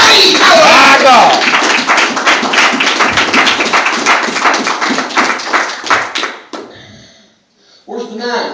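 A church congregation clapping in praise, a loud sustained patter of many hands mixed with shouts and voices, dropping off briefly near the end before talk resumes.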